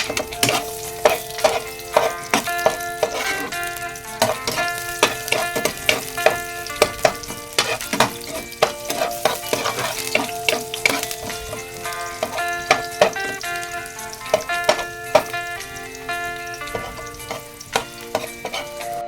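Garlic hitting hot oil in a large wok, with crackling sizzle and repeated sharp clinks of a utensil against the pan at a brisk rhythm, close and clear, with no talk.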